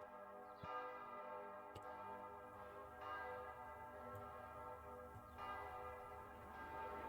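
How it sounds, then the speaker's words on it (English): Bell tones for a dark ambient music piece ring out in slow, soft strikes, each one sustaining into a faint droning wash with long resonant tails. "This is our bells."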